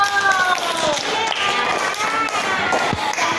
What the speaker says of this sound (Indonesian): tepuk tangan buat Viko